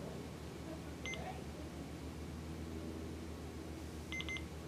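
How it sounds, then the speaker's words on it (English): A receiver gives a short, faint high beep early on and then a quick double beep near the end, over a steady low background hum. "until you hear a double beep."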